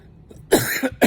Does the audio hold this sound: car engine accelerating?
no